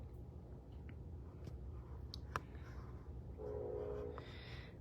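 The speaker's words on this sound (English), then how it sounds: "There is our obligatory train." A train passes at a distance, a low steady rumble with faint clicks and a distant horn-like tone near the end, heard indoors and fairly quiet.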